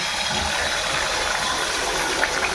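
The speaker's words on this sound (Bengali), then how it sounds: "কড়াইতে তেল দিয়ে দিলাম তেলটা হয়ে গেছে এবার এর মধ্যে এই ডিমটা ঢেলে দেব" Beaten egg poured into hot oil in a wok for an omelette, giving a steady, close, even sizzling hiss that holds without a break.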